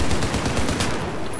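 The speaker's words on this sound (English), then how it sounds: "just keep firing" Dense gunfire from a Battlefield 4 multiplayer match in Operation Locker obliteration mode, with rapid overlapping shots rattling continuously and loudly throughout.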